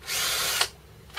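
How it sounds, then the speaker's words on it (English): A power drill bores a hole to remove a Datatool S3 unit on a Triumph motorcycle: a loud, high whine lasting about half a second that stops abruptly, then a second brief start at the end. "So to remove it, easiest thing to do is just drill a hole"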